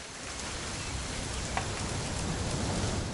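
Steady rainfall in a video game, a continuous hiss of drops pattering on surfaces, even and unbroken throughout with no voices.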